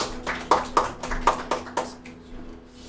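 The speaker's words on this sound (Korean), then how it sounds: "하나님께 감사의 박수" Light applause from a small church congregation during a Sunday service, made of a few scattered claps that thin out after a couple of seconds. The clapping is soft and close.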